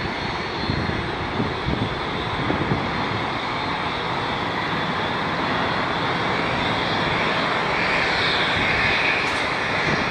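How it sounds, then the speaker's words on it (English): Airbus A320 in special livery, its engines a loud, continuous broadband roar that holds steady throughout, with a faint whine rising near the end. "Airbus A320 It's a special livery!"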